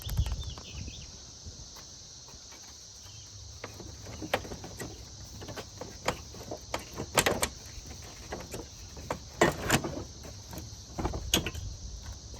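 The front bumper of a ninth-generation Honda Civic is pulled off by hand, giving scattered plastic clicks, pops and clatters close by. The sounds come in irregular bursts over a quiet hum.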